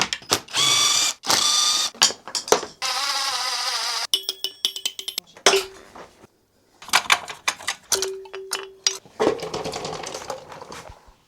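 Ratchet wrench working on the bolts of a CFMoto motorcycle's plate, with bursts of rapid clicking alternating with pauses, clinks and handling noises up close.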